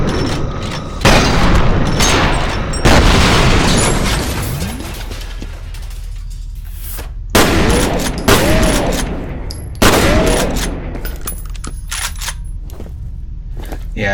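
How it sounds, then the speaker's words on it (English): Automatic turrets firing in the video game FEAR, several loud sharp bursts of gunfire separated by brief pauses, with booming echoes and ringing decay between volleys. "now we have automatic turrets"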